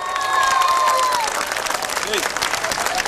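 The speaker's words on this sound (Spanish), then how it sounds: "vamos a pedir un aplauso fuerte para Canal 7 por los domingos de fiesta" A live Peruvian Sunday TV variety show audience claps and cheers steadily throughout, with a brief tonal sound early on and speech mixed in.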